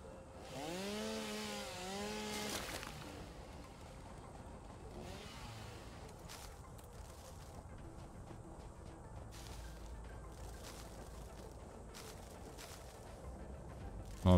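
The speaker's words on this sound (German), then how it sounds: "So, einmal die Kettensäge raus." Chainsaw cutting in the factory-building video game Satisfactory, a steady, buzzing motor drone that holds for the whole stretch at moderate loudness, with a brief voice near the start.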